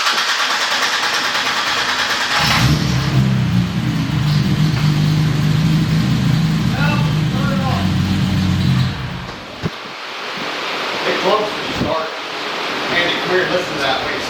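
An American Toyota Supra engine on a dyno cranks and fires, settling into a loud, rough low drone for several seconds before cutting off. Voices then talk over quieter background noise.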